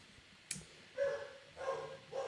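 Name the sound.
dog barking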